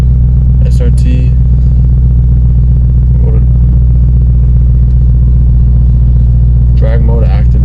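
A Dodge Demon 170 rated at 1025 hp warms up, its engine holding a loud, steady low rumble throughout, with brief bursts of speech over it.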